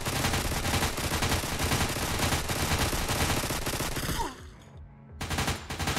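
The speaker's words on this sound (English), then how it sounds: "they shoot each other anyway." Video game gunfire: dense, sustained rapid bursts of shots rolling continuously, then cutting out briefly before another burst resumes.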